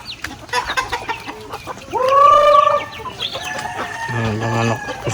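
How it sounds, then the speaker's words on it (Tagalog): Farm chickens and roosters on a rural breeder farm cluck in short bursts while a rooster lets out a loud nearby crow, with another drawn crow following, busy and close. "Manok, isabong din natin sa loob."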